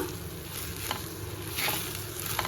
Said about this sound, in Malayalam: അപ്പോൾ ചെറുതായിട്ടൊന്ന് മിക്സ് ചെയ്ത് കൊടുക്കാം